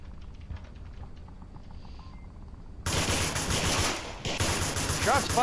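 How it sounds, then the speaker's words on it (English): Gunfire in the VR shooter Onward: faint clicks and handling sounds give way to a sudden loud, sustained burst of rapid automatic fire that carries on with a brief break to the end. "Shots fired! Shots fired!"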